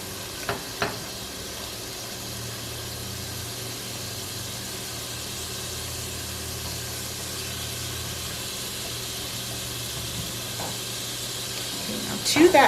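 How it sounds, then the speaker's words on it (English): Tomato frying in a pan while being stirred, a steady close sizzle and hiss running throughout, with a few brief knocks near the start and end. "So while we were blending our vegetables, our tomato was continuing to fry."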